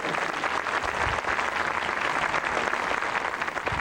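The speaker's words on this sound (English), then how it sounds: "How about a nice round of applause?" Steady audience applause for barefoot hula dancers at the Kodak Hula Show, a dense, even wash of clapping that holds at full strength throughout.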